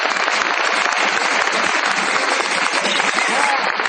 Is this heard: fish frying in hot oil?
no